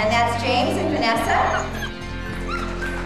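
Young puppies yip and whimper in high, overlapping cries close by. A voice talks underneath them.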